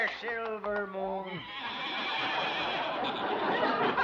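Horse whinny radio sound effect for a horse and buggy, a loud, quavering neigh lasting just over a second, followed by a steady noisy wash of background sound.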